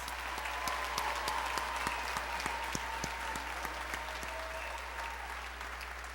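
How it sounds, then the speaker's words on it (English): A commencement audience applauds master's degree honorees: dense, sustained clapping from a large crowd that holds steady for the whole stretch, with individual claps popping out of the wash. "Let's give all of our Master's honorees a round of applause."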